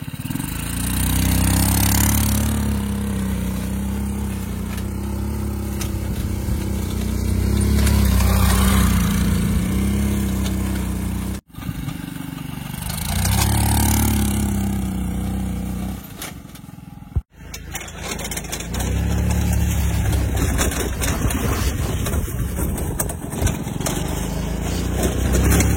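Homemade Formula 1-style car powered by a scooter engine, test-driven and drifting; the small engine buzzes and revs hard, rising and falling in pitch over several passes, with brief cutoffs and loud near bursts.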